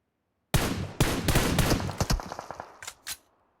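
Bursts of automatic gunfire in the mobile battle royale PUBG Mobile, a dense rattling volley followed by several shorter, spaced shots that trail off, loud and close with no talking.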